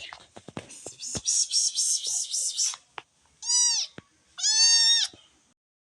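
A small house kitten meows close by: a quick burst of chirping sounds leads into a longer cry, followed by two more drawn-out, rising-and-falling meows with short silences between.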